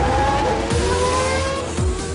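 A Formula 1 car in a virtual racing game at the Austrian Grand Prix, its high-pitched engine screaming loudly and continuously, with rising gear-by-gear whines and two quick downward shifts as it accelerates.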